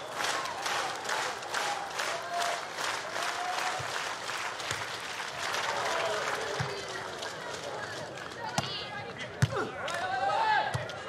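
A crowd at a beach volleyball gold-medal match between Latvia and Brazil in Moscow cheers and applauds steadily at match point, with a broad sustained roar and scattered claps and thuds, while a commentator talks over it.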